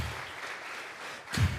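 A church congregation claps together during a live worship service, a short burst of applause rising near the end, fairly faint and distant.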